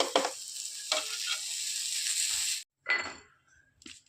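Onions and chillies sizzle and fry in a pan for a Kerala-style fish roast, with loud hissing interrupted by stirring clinks, then cutting out and returning as fainter sputters.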